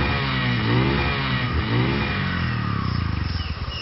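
Motorcycle engine revving up close, a steady mid-pitched roar that rises and turns into a rapid pulsing putter toward the end, loud and alone with no talk.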